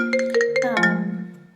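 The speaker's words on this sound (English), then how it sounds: "Oh, my phone's ringing." A short electronic ringtone chimes a quick run of bright melodic notes, then the last tone rings out and fades.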